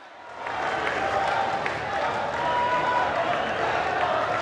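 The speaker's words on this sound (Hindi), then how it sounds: "एक बार ताली बजाकर स्वागत करें, अभिनंदन करें" A large crowd at a tribal rally in Jhabua, Madhya Pradesh breaks into welcoming applause, a broad, sustained wash of clapping that rises after half a second and carries on steadily to the end.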